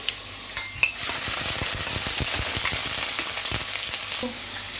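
Chopped onion hitting hot oil in a pan and frying for chicken piccata with mushroom cream sauce, a steady close sizzle with a few stirring clinks at the start.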